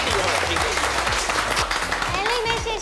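Studio audience clapping for the red team at a school-lunch chef cooking showdown with young student judges, a steady applause wash under lively background music and a voice.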